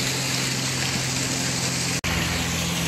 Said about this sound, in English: I can still enjoy the beauty of this waterfall from down here